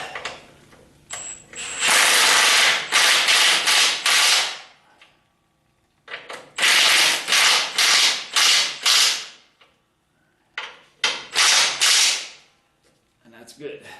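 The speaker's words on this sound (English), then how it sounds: "So I'll set my impact wrench to tighten on just number 1. Give it a quick hit." An impact wrench tightens a bolt on a hydraulic cylinder under repair, firing three loud, close bursts of rapid hammering, each lasting two to three seconds with short pauses between.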